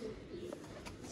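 Soft, low coos from Sialkoti pigeons, brief and fairly close, with faint background noise.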